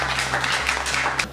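Studio audience applause on a French television game show, brisk scattered clapping filling a short stretch, fairly close and loud.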